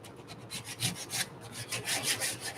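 Coarse 120 or 220 grit sandpaper rubs back and forth by hand along a wooden edge in quick, even strokes, close and rhythmic, each pass a soft rasping swish, with no speech.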